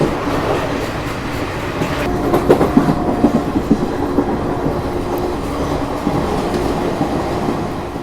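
Bandra-Jodhpur Suryanagri Express passenger train running on rails between Vapi and Valsad, a steady dense rumble with rhythmic clickety-clack of wheels over rail joints, heard close from on board and continuing throughout.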